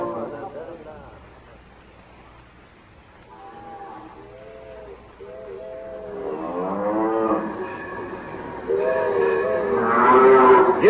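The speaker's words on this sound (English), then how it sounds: "the Wyoming special can't get through to the station on account of them cattle blocking the right of way" Cattle low and moo repeatedly in a radio drama scene, several drawn-out calls building louder toward the end over a low rumble, with voices mixed in among the herd.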